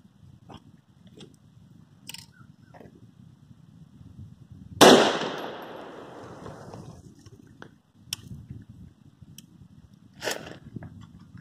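One gunshot fired at a car door during an outdoor penetration test, a sharp loud crack with a ringing, echoing tail, surrounded by faint background noise and a few small distant knocks.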